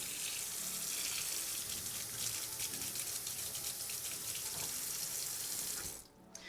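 Tap water runs steadily into a kitchen sink while a whisk is washed, a continuous moderate splashing rush that cuts off near the end.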